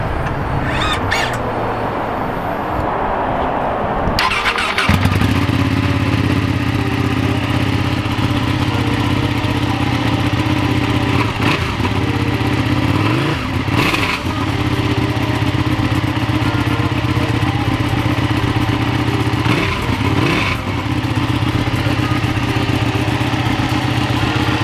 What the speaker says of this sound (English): I figured we'll start it up for you and just so you can hear it, what it sounds like.